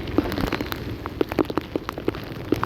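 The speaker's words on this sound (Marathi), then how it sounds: "पाऊस इतका पडतोय इतका पाऊस पडतोय" Heavy rain pattering on a surface on the Dapoli–Mumbai road in Konkan, with distinct close drops tapping irregularly over a steady wash of rainfall.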